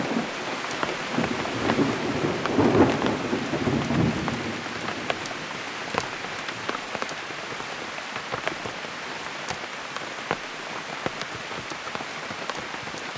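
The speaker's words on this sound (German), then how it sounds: "Oh je, das ist Hagel." A hailstorm pelts down in a dense, steady hiss of impacts, louder in the first few seconds, with scattered sharper cracks of stones striking nearby surfaces.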